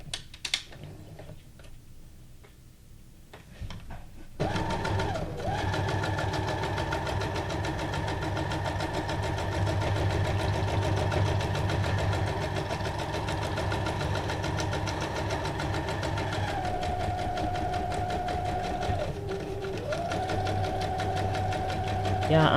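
Sewing machine running a straight stitch around a collage journal card, a steady mechanical whir that kicks in after a quiet start and holds for a long stretch with slight shifts in pitch.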